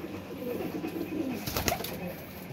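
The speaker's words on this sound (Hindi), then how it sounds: "ये रामपुरी और टैडी कबूतरों के क्रॉस में कबूतर है" A Rampuri and Teddy crossbred pigeon cooing in low, soft repeated calls close by, with a brief burst of rustling or wing movement midway and a light hum behind.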